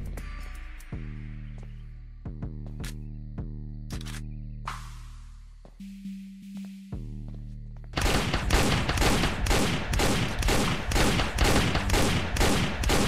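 Sneak Thief gunfire on a yacht: a string of separate sharp shots with ringing tails, a brief buzzing tone, then a fast, loud, evenly spaced burst of automatic fire.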